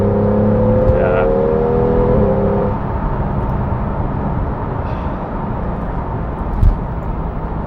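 Porsche 911 GTS (991.1) with its 3.8-litre flat-six pulls hard under throttle from inside the cabin, a steady loud engine drone with rising tones early on that then settles into a rougher rumble.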